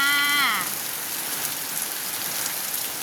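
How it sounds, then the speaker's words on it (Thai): Steady rain falls in a dense, even hiss close by, pattering on surfaces throughout, with a brief voice over the opening moment. "ฝนตกฝนตกเย็นชุ่มฉ่ำค่ะ"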